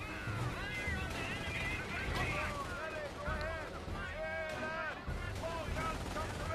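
Gunfire from Panzergrenadiers in Company of Heroes crackles and booms in scattered bursts under battle noise, with voices shouting over the fighting.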